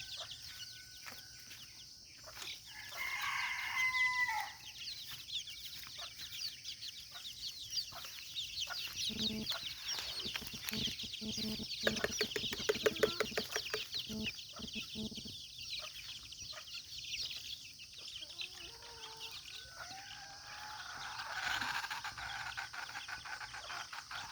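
Chickens cluck and call at a morning feeding on a small farm, eager for food. Repeated close clucks and chatter rise and fall throughout, mixed with scattered pecking and rustling, some birds louder and nearer than others.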